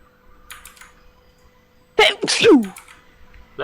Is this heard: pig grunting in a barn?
no